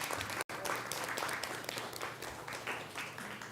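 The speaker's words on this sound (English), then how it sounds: "Miss Jeanette Thomas, let's give you another applause." Audience applause fills a city council meeting chamber in Paterson, New Jersey, a steady moderate patter of many hands with a brief dropout near the start and faint voices mixed in.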